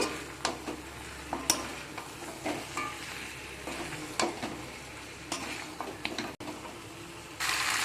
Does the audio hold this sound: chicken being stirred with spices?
yes